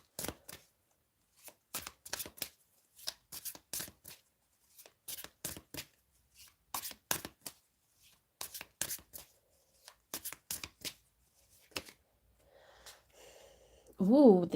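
Tarot cards shuffled for a love reading, crisp bursts of riffling and slapping in an irregular rhythm with brief pauses, close and fairly loud, ending with a breathy vocal sound.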